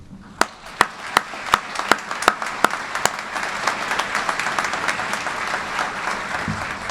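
At a naval graduation ceremony, a few sharp, separate claps quickly swell into sustained, steady applause from a large crowd that holds to the end.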